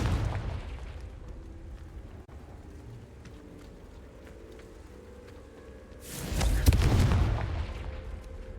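A Confringo blasting spell explodes in the Hogwarts Legacy video game, a loud booming burst rising out of a low rumbling background about two-thirds of the way through.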